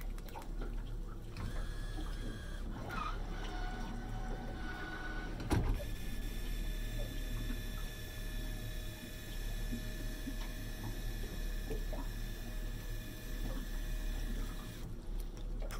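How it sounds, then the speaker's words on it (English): A Minn Kota Altura trolling motor deploys itself on a boat with a steady electric motor whine and mechanical hum lasting several seconds, a clunk partway through, and low background noise. "One of the nice features of this Minnkota Altura is that it deploys itself."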